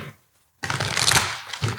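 Tarot cards shuffled by hand, a quick burst of crisp riffling and slapping card noise close up after a moment of silence.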